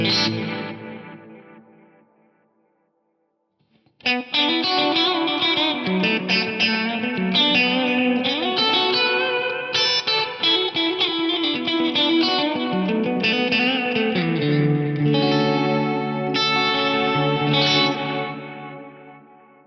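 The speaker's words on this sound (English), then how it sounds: "I'm going to have the delay processing my guitar signal and the reverb processing my guitar signal" Electric guitar through an Eventide Eclipse with parallel delay and reverb plays a melodic phrase with echoing delay repeats and a wash of reverb; a short note rings out, a pause, then continuous layered playing follows.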